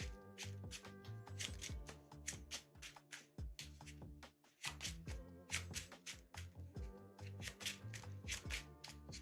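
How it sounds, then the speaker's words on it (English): A deck of playing cards for a Lord of the Rings card game is riffled and bridged several times, crisp rapid flutters in quick bursts with short pauses between, close and fairly quiet. "All right, we shuffle this back up."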